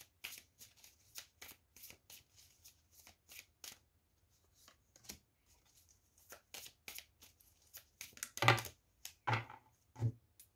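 Tarot cards being shuffled and drawn in a card reading, a quick run of close, crisp riffling flicks followed by a few heavier slaps and slides as cards are pulled out.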